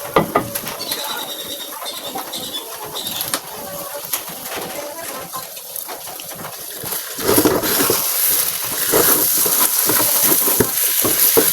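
Bitter gourd and egg with moringa leaves frying in a pan for breakfast, a steady close sizzle with scraping stir sounds, growing louder and busier toward the end, with faint birdsong in the background.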